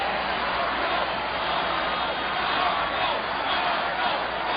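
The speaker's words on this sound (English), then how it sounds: "The American people cheering and chanting the name of someone whose homeland is Austria" A large American crowd cheers and chants the name of Austrian-born Arnold Schwarzenegger, a dense, steady roar of many voices that holds at an even loudness throughout, with no individual speech standing out.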